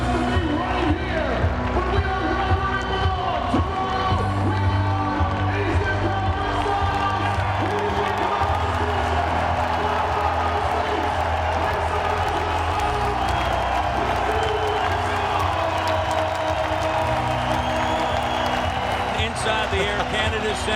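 A sold-out crowd of more than 20,000 fills the Air Canada Centre at a Saturday-night basketball game, cheering in a steady, dense roar for the full stretch, with whoops and applause and a faint ball bounce underneath.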